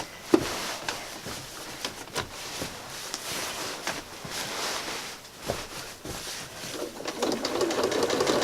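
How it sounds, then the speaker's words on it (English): A sewing machine with a walking foot stitches a quilt in a steady, fast mechanical patter, broken by brief pauses and a few sharper clicks, close and fairly quiet, with no talking. "I'm going to stitch using my walking foot down to the corner"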